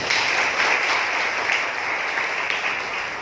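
Steady applause from a church congregation, a dense even wash of clapping filling the whole moment with no talk over it.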